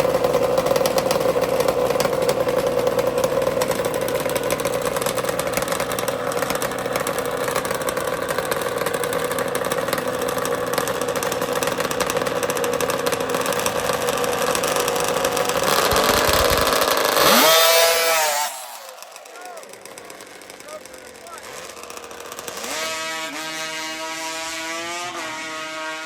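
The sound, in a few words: two-stroke Yamaha and Kawasaki drag racing motorcycle engines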